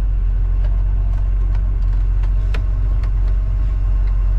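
A 1978 Pontiac Trans Am engine idles at about 500 RPM, a loud, constant deep rumble heard from inside the car, with faint clicks and knocks over it and no talking.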